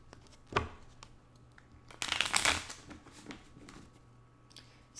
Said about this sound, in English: let me do a little shuffling here